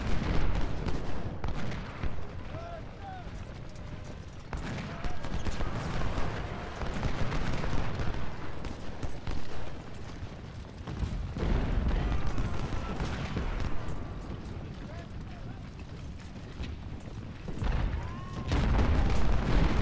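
Cannon artillery fire in the Civil War strategy game Ultimate General: Civil War, with repeated booming volleys and rumbling blasts in waves under battle ambience. Someone speaks intermittently.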